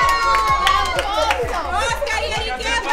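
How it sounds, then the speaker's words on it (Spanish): Guests at a baby shower clap, cheer and chatter in a lively, loud burst, with shouts and overlapping voices throughout and a rhythmic thumping in the background. "aplauso para Miguelito y Lady Chiqui"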